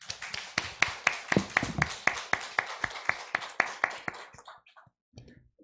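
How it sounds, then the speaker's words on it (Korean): A church congregation claps together in a steady, even rhythm, about three claps per second, fairly close and loud, then the clapping breaks up into scattered, fading claps before stopping. "우리와 같은 박수 해주세요."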